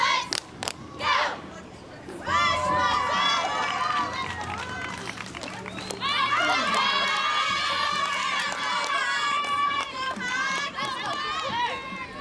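High school cheerleaders from Cooper High chanting "go Hawks" at a parade, loud group shouts in rhythmic bursts with crowd noise around them.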